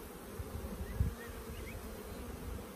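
Honey bees hum steadily around an open hive frame of nurse bees near the queen, a soft continuous buzz outdoors with occasional louder passes of single bees, no voices.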